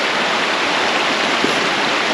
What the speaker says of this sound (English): look at the rapids. Little cascades, little waterfalls, beautiful